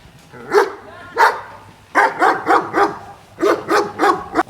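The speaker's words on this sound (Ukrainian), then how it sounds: "і там песик." A dog barks close by, with two single barks and then two rapid bursts of several barks each. Low whines sound between them.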